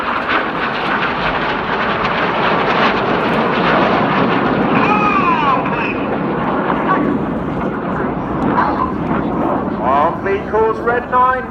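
Red Arrows jets at an air show flying display roar overhead in a sustained, loud broadband rush that swells and fades, with a commentator talking over the engine noise throughout.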